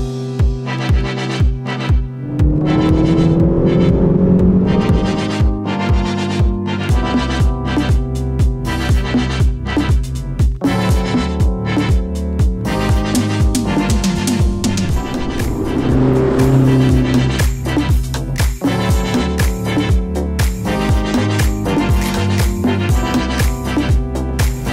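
A McLaren GT drives on a long road trip from Barcelona to Rotterdam, its engine droning loud and steady with rising and falling revs as it cruises, and music plays over it.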